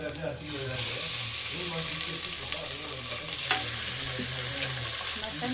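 Washed mutton hits hot oil and fried onions in a pressure cooker, setting off a loud, steady sizzle and crackle that carries on evenly, with the clink of stirring and a voice talking now and then over the frying.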